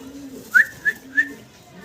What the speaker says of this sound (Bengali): দেখেন চমৎকার একজোড়া শ্যালো কবুতর লেগ ফেদার দেখেন লেগ ফেদার